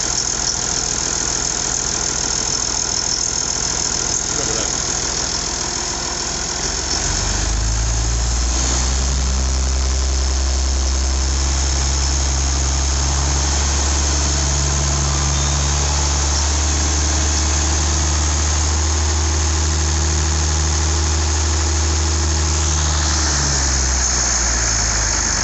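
An IH 5288 tractor engine fires up after several seconds of loud starter cranking, then settles into a steady, loud, close rumbling idle with a faint squeal, running alone with no talk.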